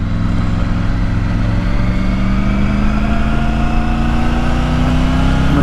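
Triumph Tiger 900 Rally Pro motorcycle being ridden, a steady engine drone with slowly climbing pitch under heavy wind rush, loud and continuous throughout.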